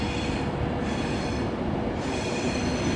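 A Virgin Trains class 390 Pendolino, unit 390107, departs Stockport for Manchester Piccadilly with a steady, loud rolling rumble and wheel noise that holds evenly throughout.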